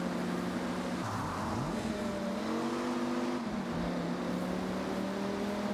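Dodge Ram SRT10 pickup truck's engine droning steadily as it drives on wet roads in Forza Horizon, the tone rising and dipping with gear changes and throttle, loud and continuous with no talk.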